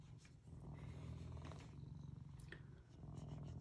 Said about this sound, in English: But he seriously has not stopped purring, and he is an amazing cat